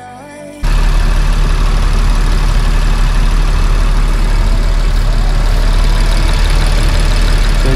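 An Audi car engine with a transmission control module fault turns over and catches, then settles into a loud, steady idle that hums on without a break.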